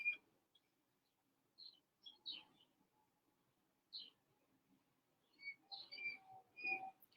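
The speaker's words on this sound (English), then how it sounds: "you might be hearing my birds in the background. Not my birds, but the birds outside" Faint, scattered bird chirps and high whistled tweets come in small clusters from a distance, with quiet gaps between them.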